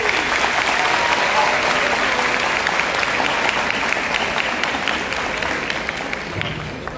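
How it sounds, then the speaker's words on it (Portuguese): Loud, steady applause from a large crowd for speakers at a sport psychology talk, sustained throughout and tapering slightly at the end. "uma salva de palmas para os palestrantes."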